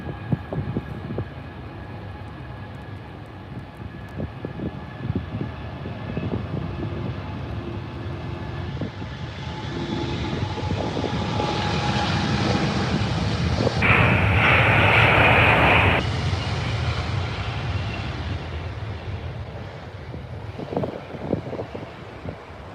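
ANA Boeing 777 airliner at Heathrow Airport, its engine roar swelling gradually as it approaches and passes, loud and broad with wind buffeting the microphone, then easing away.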